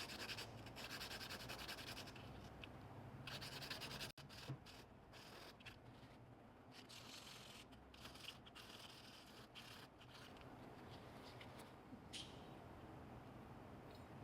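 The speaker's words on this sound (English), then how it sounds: "I might try and sand this piston a little bit." Close, steady rubbing and scraping as a fuel pump piston from a 1995 Gehl 5625SX skid loader is sanded by hand along its edge, a continuous gritty abrasion with short pauses.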